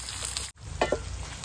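Onions frying in oil for an eggplant curd curry give a brief, close sizzle that drops out for an instant, then returns with a couple of louder crackling bursts.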